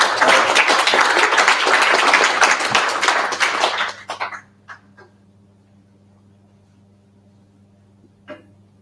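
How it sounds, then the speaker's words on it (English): Audience applause at a data engineering meetup, a dense, loud burst of clapping that carries on for about four seconds, then thins to a few scattered claps and quiet room tone. "So a round of applause for Andreas and Caroline."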